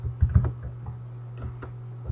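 Keys clatter on a computer keyboard in a short burst of a few quick presses, then sparser taps, close up over a low steady hum.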